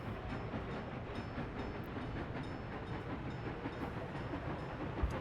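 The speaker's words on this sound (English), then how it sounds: "And our train has arrived." Rail wagons roll in and unload at a station in the Workers and Resources city-building game, a steady mechanical rumble with faint clickety-clack and hiss continuing throughout, with no voices.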